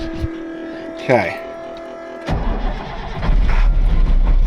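An old wrecker truck with a worn engine, unused for a long time, cranks and catches after a few steady tones, then runs rough and loud with a low rumble; a voice speaks briefly.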